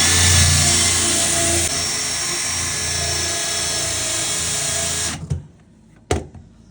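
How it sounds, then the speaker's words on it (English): A power tool cuts through ABS pipe at its center, a loud steady whine for about five seconds that stops abruptly, followed by a couple of sharp knocks. "I'm just going to cut right in the center of that pipe."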